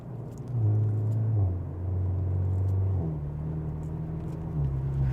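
A BMW 4 Series G20 LCI engine hums steadily at low pitch while driving, with added sound insulation, its tone stepping up and down with speed changes; no one speaks.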